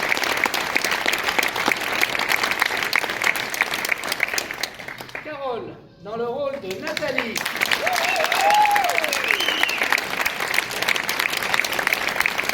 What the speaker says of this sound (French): Vous allez applaudir encore une autre fois